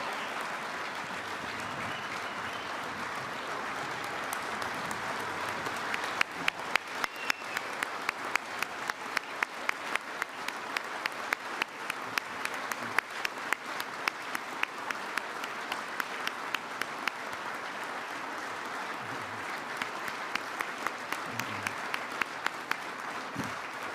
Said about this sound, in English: let's give a big round of applause for your 2025 National Football Foundation College Football Hall of Fame class